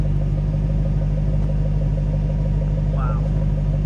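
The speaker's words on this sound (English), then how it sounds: "listen to the exhaust rumble" Steady low exhaust rumble from an idling 2007 Ford Mustang Shelby GT500 with a 6-speed manual, a constant deep drone filling the whole stretch with no revs and no talk.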